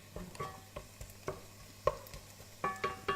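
Onion and green chili fry in a pan for soup, with soft sizzling under a series of sharp stirring scrapes and taps spaced irregularly, fairly quiet and close, no voices.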